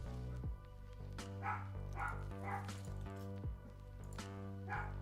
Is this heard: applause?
no